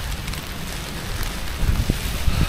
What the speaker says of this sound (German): Und der Wind macht hier ein bisschen Sorge.